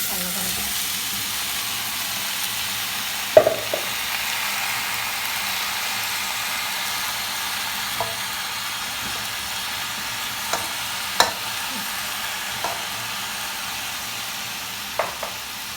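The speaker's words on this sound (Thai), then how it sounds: "การคั่วเราก็คั่วไฟอ่อนๆนะคะ" Steady sizzling of chicken stir-frying over low heat in a wok, with a few sharp scrapes and clinks of a utensil stirring now and then.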